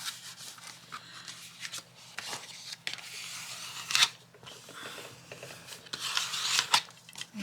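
Scissors snip through paper for a junk journal: irregular crunchy cuts and rustling close up, with a couple of sharper snips standing out.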